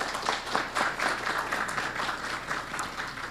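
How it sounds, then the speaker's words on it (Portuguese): An audience at a cardiology imaging class in Piracicaba claps for a certificate recipient, a brief round of moderately loud, even applause with a faint tone beneath. "vamos uma salva de palmas para ele"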